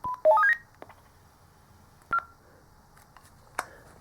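A Kirisun S780 two-way radio sounds its all-call alert, a quick rising sequence of beeps followed by a single short tone and a faint click, heard alone and fairly close.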